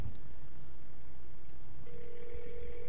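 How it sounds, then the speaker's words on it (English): Telephone ringback tone of an outgoing call heard over a speakerphone held close to a microphone, a steady electronic tone sounding alone and moderately loud, with no talk. "It's ringing."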